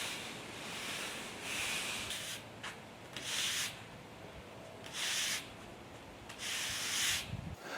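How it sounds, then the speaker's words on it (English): Kiln-dried sand being brushed into block paving outdoors, a series of repeated broom strokes heard as gritty rasping sweeps with short pauses between them and no talking. "Now when you're brushing the sand in, you can go in more or less any direction you like to start with."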